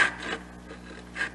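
A hand saw rasps through a wooden board while cutting dovetail tails, giving a steady, close scratching with soft strokes that swell at the start and again near the end.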